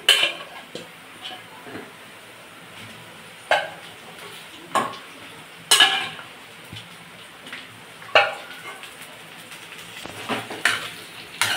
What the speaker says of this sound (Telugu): మళ్ళీ ఇప్పుడు చికెన్ ఫ్రై చేస్తున్నాడు